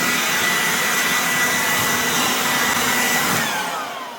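A loud, continuous rush of air from an Aoetree 20V cordless jobsite blower runs steadily, then begins to wind down and fade near the end.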